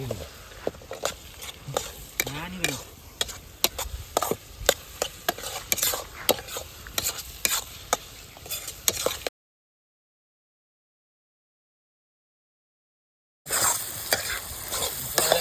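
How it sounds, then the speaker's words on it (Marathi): Egg curry masala sautés over low flame on a wood-fired stove, with busy spatula scraping and stirring over a frying sizzle; the sound cuts out for a few seconds, then returns. "आता चांगलं परतून घेऊ मंद आचेवर"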